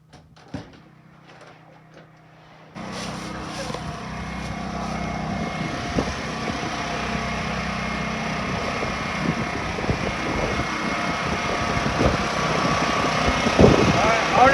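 A portable generator engine starts up with a sudden steady drone and keeps running loud and constant, with small clicks and knocks on top after a short quiet stretch.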